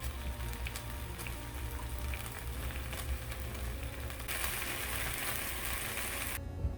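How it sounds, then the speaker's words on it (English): Sausages sauté in a pan, a steady, soft sizzle and crackle that holds throughout at low volume, close up and without voices. "we're going to go ahead and just quickly saute those sausages off"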